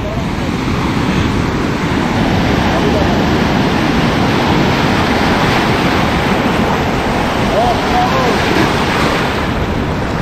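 Ocean waves wash steadily against the seashore in a loud, continuous surf roar mixed with wind buffeting the microphone, with no break across the stretch.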